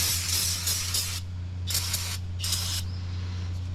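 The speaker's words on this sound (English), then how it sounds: "we're gonna just spray some brake clean and clean up this caliper" Three hissing bursts of aerosol brake cleaner, one long and two shorter, sprayed close by onto a filthy brake caliper of a Ferrari F430 over a steady low hum.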